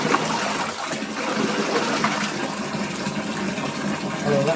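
Running water gushes and splashes as fresh Cauvery river fish are rinsed in bulk, a steady close wash of flowing liquid with no clear talk.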